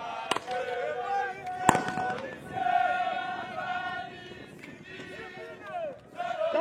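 Sharp crack-like shots ring out twice near the start during a police public-order drill in Bunia, followed by a scattered crowd commotion and shouted commands, with voices talking throughout.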